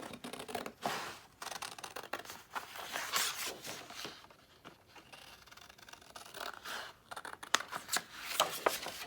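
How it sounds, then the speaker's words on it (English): Scissors snipping through paper for a craft project, a run of short crisp cuts and rustles at close range, alone with no talk. "I'm just going to cut this one out using my scissors."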